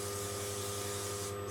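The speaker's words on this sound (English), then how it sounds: "I'm going to spray straight up into the hair" Hairspray sprayed straight up into hair before scrunching, one continuous close, loud hiss lasting the whole moment without a break.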